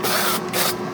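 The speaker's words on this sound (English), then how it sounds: "Spray with oil." Cooking oil sprayed from a can onto chicken in an air fryer, two short close hissing bursts separated by a brief pause.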